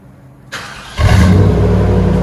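A 1998 Chevy Silverado 5.7L V8 with Flowmaster Super 10 true dual exhaust and angle-cut tips idles briefly, then blips and revs hard into a loud, deep, sustained roar up close.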